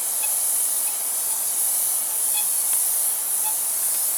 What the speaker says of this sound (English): as the air is bleeding, I'm going to start to unthread the top half of the tank.